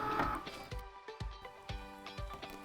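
A Cricut Maker cutting machine unloads its mat, giving several quiet mechanical whirs and soft thumps in an uneven rhythm, close and faint, with no talking.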